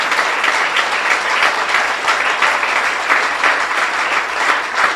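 A church congregation applauds steadily for about five seconds, a dense, loud wash of clapping with no break, filling the room.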